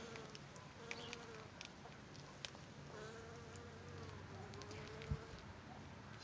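Bees buzz faintly around autumn chrysanthemum flowers outdoors, a soft wavering drone drifting in and out with a few light clicks against quiet background noise.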